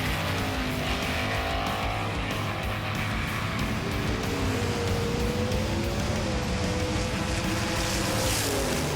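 A Ford Falcon drift car driven by Mad Mike roars through its run, engine revving up and down in steady, loud, sustained waves with shifting pitch, heard at a distance over a constant crowd and ambient wash.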